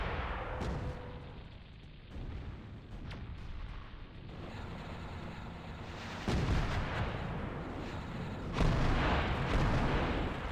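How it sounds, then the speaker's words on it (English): Deep booms and bursts of gunfire rumble continuously in a battle in the free real-time strategy game Zero-K, with enemy bases exploding and heavier blasts swelling in the second half, like a dense battle of repeated explosions. "Enemy bases explode. Just explosions everywhere."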